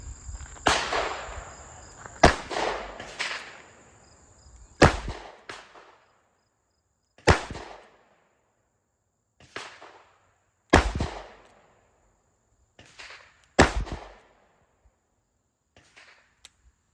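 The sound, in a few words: revolver gunshots, .38 Special / .357 Magnum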